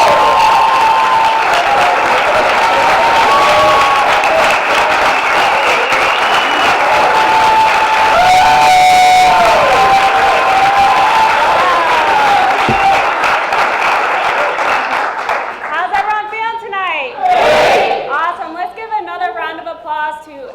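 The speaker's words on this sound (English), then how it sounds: "applause to Ashley, Donna, and Tom." A large crowd at a business presentation applauds and cheers loudly and steadily, with a voice over the noise near the end.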